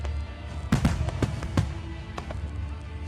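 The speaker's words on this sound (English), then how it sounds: "This is like what Gandalf would do for fireworks." A fireworks display going off, with a cluster of sharp booming bursts in quick succession followed by a couple of fainter distant pops and a lingering low rumble.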